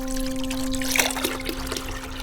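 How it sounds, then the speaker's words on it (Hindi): Water trickles and splashes steadily from a clay pot in an animation, a continuous bright flow with a low hum beneath. "जिस मटके पे थे खड़े उससे पानी बह रहा था बिना रुके"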